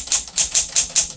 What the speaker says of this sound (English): it's probably as close as you're going to get on a manual typewriter to the light touch of a computer keyboard